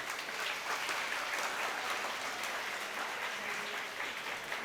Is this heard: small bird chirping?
no